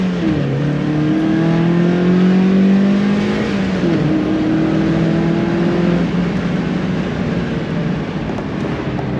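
A Mazda Miata engine revs out loudly and steadily for about nine seconds, its pitch climbing, then dipping at a shift before climbing again, close and continuous with no talking.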